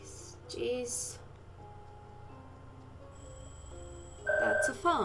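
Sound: telephone ringing in the video game Puzzle Agent 2

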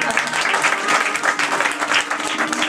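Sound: audience applause at a concert

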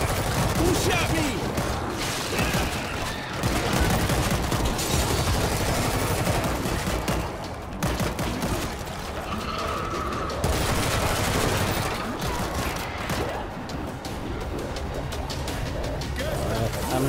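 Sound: gunfire in the video game World War Z

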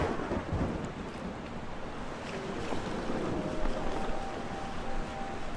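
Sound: thunder and lightning storm at sea in video game Forgotten Seas

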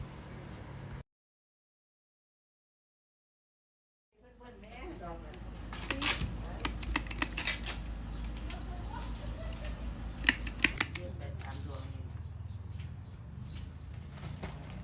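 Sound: scissors trimming banana leaf tips for Bai Sri

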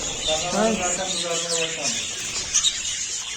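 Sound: budgerigars chirping in a breeding aviary

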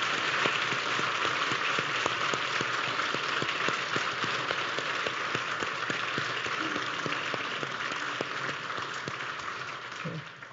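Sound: church congregation applause

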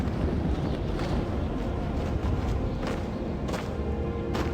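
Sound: wind blowing in a video game

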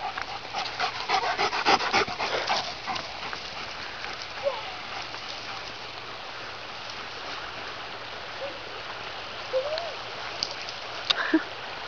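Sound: dog panting and sniffing

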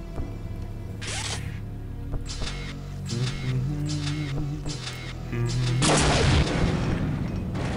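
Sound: explosions in the video game Unreal

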